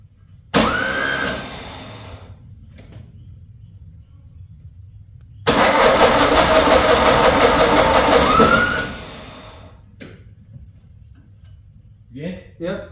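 A 1958 VW Beetle engine cranks in two loud, close bursts, about two seconds and then three seconds long, separated by quiet pauses. It does not catch and run, and brief voices come near the end.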